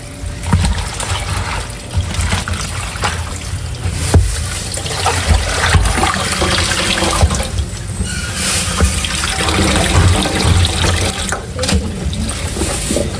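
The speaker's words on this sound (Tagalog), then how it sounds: "Huhugasan na po muna natin itong ating kangkong." Kangkong (water spinach) being washed by hand in a basin of water, with steady splashing, trickling and sloshing close by throughout, no voices.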